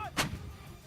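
An L-119 howitzer fires once, a short sharp boom followed by a low rumbling decay, heard from a distance against faint background noise.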